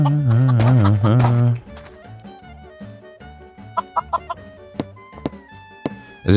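Minecraft chickens cluck loudly in a short burst at the start, then someone speaks German while sparse, sharp game clicks and quieter clucks pop up intermittently underneath.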